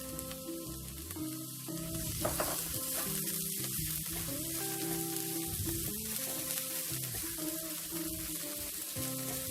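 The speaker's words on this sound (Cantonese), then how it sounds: "爆一爆呢個薑蓉同埋蒜蓉" Minced ginger and garlic sizzle and crackle steadily in a hot wok while being stirred, with a clatter of the utensil near the start and a strong, close, continuous frying hiss throughout; no one speaks.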